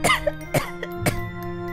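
A girl coughs three times in quick succession, harsh and close, over a steady low hum with no talking.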